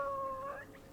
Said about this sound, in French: La belle menée des chiens, ça chante